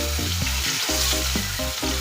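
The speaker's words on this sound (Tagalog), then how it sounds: "Prito tayo." Loud, continuous sizzling and crackling of fish frying in hot oil, close up, with a low hum running underneath.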